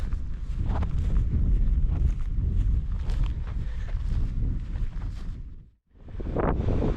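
Strong wind on a hilltop buffets the microphone in a continuous low roar, briefly dropping out before gusting back in, with no voices.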